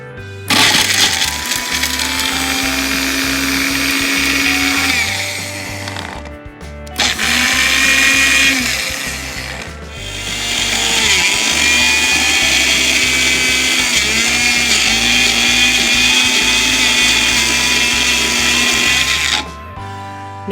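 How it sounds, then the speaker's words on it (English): A plugged-in blender whirring through a Reese's peanut butter blizzard, running loud in three long bursts with brief pauses and pitch shifts as the load churns, no talking heard. "Now, because this is a blender"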